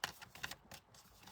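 Cards being shuffled by hand, a quick burst of soft papery riffling clicks close by, fairly faint, with no talk.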